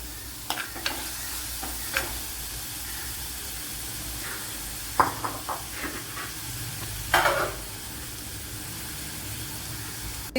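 A small tomato is sautéed in a pan, with scattered scraping stir strokes and clatters over a faint, steady sizzle, spaced irregularly with quieter stretches between.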